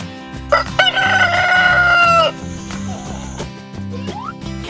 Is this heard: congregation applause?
no